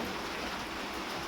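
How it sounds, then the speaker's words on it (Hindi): Steady monsoon rain pours down in a dense, even hiss with no pauses, close and constant throughout. "और ये देखिए बारिश, झिम झिम झिम झिम बारिश है।"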